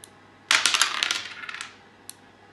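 A large 16 mm die dropped from 100 cm by a remote-controlled device lands with a sharp clatter and a quick series of rattling bounces that fade over about a second, then one small click.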